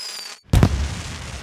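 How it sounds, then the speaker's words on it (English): Cartoon fireworks at a Chinese New Year dragon dance display: a brief fizzing whistle cuts to silence, then a loud booming burst that rumbles and crackles as it fades. "What a lovely firework display."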